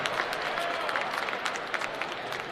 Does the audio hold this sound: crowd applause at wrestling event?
yes